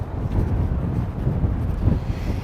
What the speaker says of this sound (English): It's getting windy over here again